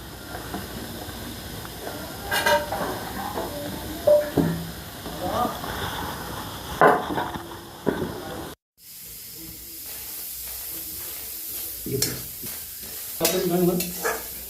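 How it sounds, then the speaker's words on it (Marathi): Onion frying in a hot pan for a dried-shrimp chutney, with a soft hiss and sizzle broken by scraping stirs of a spatula, close and moderately loud, while a voice talks over it. "आता आपण त्या कांदा लाल करून घेऊया कांदा भाजून घेऊ चांगल्या प्रकारे"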